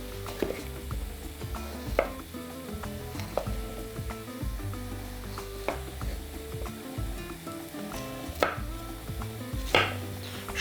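Sweet bell pepper being cut with a knife into medium pieces: irregular, close knocks of the blade against a board, spaced a second or two apart, over a soft tonal background.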